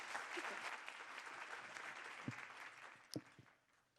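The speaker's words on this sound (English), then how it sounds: "please give another round of applause to Mr. Toyoda and all the panelists." Conference audience applauding for a panel in a hall, a dense, steady clapping wash that continues for several seconds before tapering off, with a few louder individual claps near the end.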